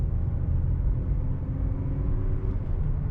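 A 2020 Mazda CX-30 Select Package drives on the road, heard as a steady, moderately loud low cabin rumble of engine and road noise with no talking.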